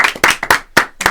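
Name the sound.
applause in a live show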